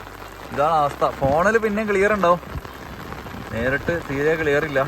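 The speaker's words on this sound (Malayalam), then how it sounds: "മഴ എന്നെല്ലാം പറഞ്ഞാൽ കൊല മഴ കേട്ടോ." Heavy rain pours down in Mawsynram, Meghalaya, a steady wash beneath someone talking in the foreground, his voice dominating over the continuous downpour.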